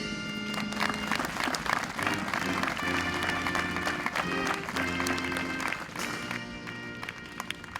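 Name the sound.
audience applause at a change of command ceremony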